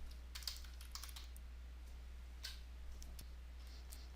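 Light, irregular keystrokes on a computer keyboard click softly and close by as text is typed into notes, set against a steady low electrical hum.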